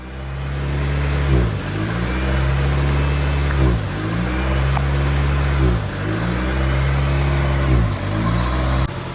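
A 1990 Acura Integra engine, recently converted to a manual transmission, idles steadily up close with a low, droning hum that surges and dips in a regular pulse about every two seconds, with no voices present.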